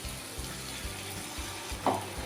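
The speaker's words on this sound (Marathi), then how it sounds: "आता ह्यामध्ये आपल्याला वाटणाचं पाणी घालायचं आहे म्हणजे ज्या मिक्सरमध्ये आपण वाटण वाटलं होतं त्याचंच हे पाणी आहे ते मी घालते" Ground-paste water from a mixer jar is poured into a simmering traditional shevla and peanut amti, giving a soft continuous pour and sizzle with a brief splashy burst near the end.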